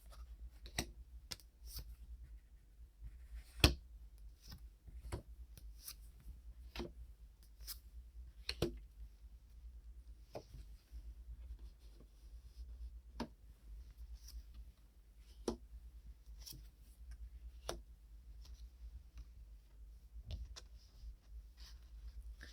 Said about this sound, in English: deal these cards out, I'm going to deal them facing you.